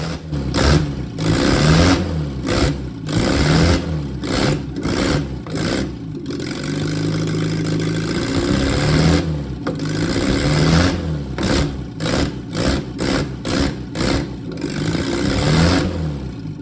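A 1960 Alfa Romeo Touring Spider engine, running again after restoration, is blipped repeatedly with sharp throttle bursts between rough idle, including a longer steady hold at higher revs, close and loud.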